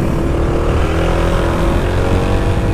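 A Honda PCX 160 scooter's engine runs steadily and loudly, a continuous low droning hum with a dense rumbling texture and no pauses.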